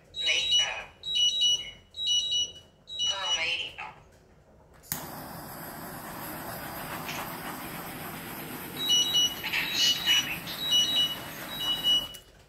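An electronic alarm for low blood sugar goes off in repeated shrill beeping bursts, close and loud, first in separate pulses and then again later over a steady background hiss.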